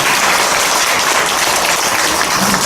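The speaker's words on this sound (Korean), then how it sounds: "우리 모두 크게 박수 한번 치고 행사 마치겠습니다." Loud, dense applause from an audience at a Korean book launch for a prose collection, a steady wash of many hands clapping close by, with no talk over it.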